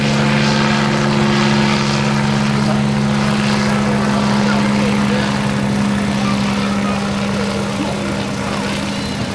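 A Bell 47 helicopter flies at a rotorcraft festival demonstration, its piston engine droning loudly and steadily with a strong constant hum and rotor chop throughout.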